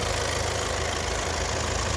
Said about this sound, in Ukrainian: Двигунчик працює, кажуть, як швейцарський годинник